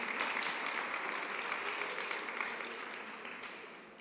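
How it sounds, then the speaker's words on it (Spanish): A final round of applause for athletes at a town hall recognition ceremony in Onda, steady clapping from a seated crowd that slowly fades toward the end. "Sí, pues damos un aplauso final, claro."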